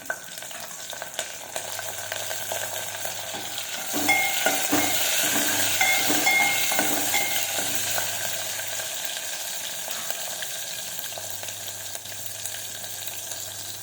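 Green chillies sizzle and crackle in hot oil with cumin and mustard seeds in a pan, a steady close frying hiss that swells louder midway with some stirring, no voices.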